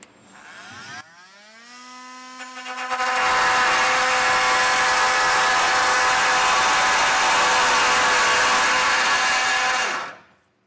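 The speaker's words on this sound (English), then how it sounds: "I'm going to take my multi-tool here and we're just going to cut that out right on the flange here" A multi-tool cutting a notch in the bed flange of a 2015 Ford F-series truck: a high whine spins up, then a loud steady buzzing cut holds for several seconds before stopping abruptly.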